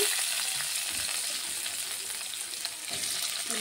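Ginger and garlic fry in a pan with a constant close sizzle and crackle, cooking for a paneer masala, at an even, moderate level with no talking.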